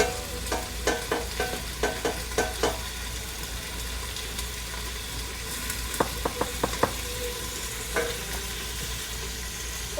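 Onions roasting in a pan give a steady close sizzle, broken by clusters of sharp clicks and scrapes that come in bursts near the start, in the middle, and near the end.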